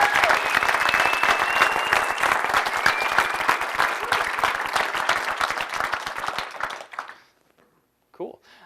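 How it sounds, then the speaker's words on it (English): A lecture audience gives a round of applause for the event organizers, dense sustained clapping with a voice briefly over it, fading out abruptly near the end into quiet. "So why don't you guys give them a round of applause for making this happen."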